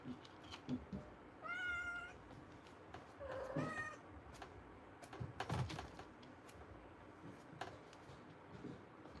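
A cat meows twice, fairly quiet, over faint background clatter and tapping.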